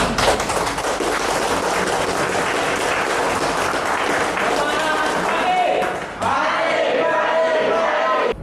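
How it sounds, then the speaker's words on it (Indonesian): Audience applause at a campus talk, loud and sustained clapping from a crowd with some cheering, continuing steadily while a voice starts speaking over it near the end. "Kita tepuk tangan semuanya."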